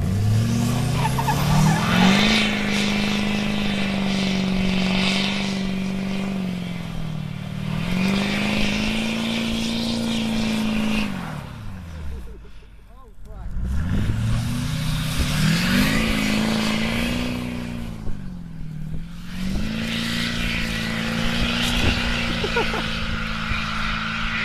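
A 2007 LBZ Duramax diesel pickup does a burnout, its engine droning at high revs, with dips and re-climbs in pitch, tires screeching and spinning loudly; a brief lull mid-way and near-continuous roar throughout.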